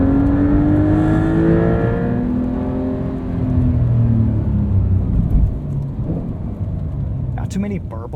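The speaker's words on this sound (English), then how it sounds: "this seems like the most personality I've heard from this new 3-liter twin turbo" A 2025 Porsche 911 Carrera S's 3-liter twin-turbo engine rumbles and revs with rising and falling pitch, loud and close, with a deep growl throughout and a brief chirp near the end.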